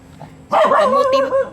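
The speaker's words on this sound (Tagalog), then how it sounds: "Ang ingay naman ng mga aso." A dog close by gives a short series of loud, yelping barks after a brief quiet moment, in a Tacloban neighborhood where many dogs roam.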